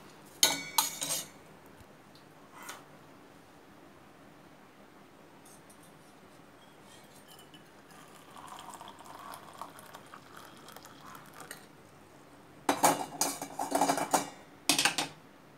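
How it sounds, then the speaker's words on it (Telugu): Melted jaggery syrup strained from a pot through a metal strainer: sharp metallic clatters near the start and again near the end, with a quiet stretch between holding a faint trickle. "ఒక స్ట్రైనర్ తీసుకొని వడకట్టుకుందాము"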